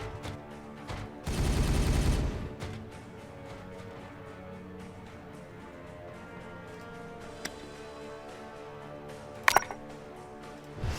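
Gunfire in the Warhammer 40k Regicide video game: a loud dense burst of shots near the start, then quieter game sounds with a couple of sharp cracks near the end, no talk.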